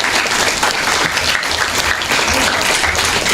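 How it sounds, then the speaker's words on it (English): Audience at a student debate event applauds the debaters, loud sustained clapping from many hands, dense and continuous with no pauses and no talk over it. "all the debaters deserve a round of applause for their efforts today"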